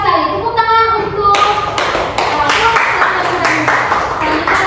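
In a classroom teaching session, a voice is heard briefly, then a group of students claps in separate, rhythmic bursts of hands that ring out close and fairly loud.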